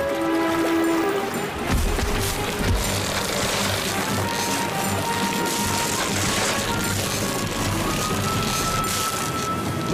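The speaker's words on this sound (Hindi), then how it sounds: "आगे तो झरना है।" In an animated cartoon, a waterfall gives a dense, continuous rushing roar of water. It stays loud throughout, with crashing bursts and layered scoring mixed in.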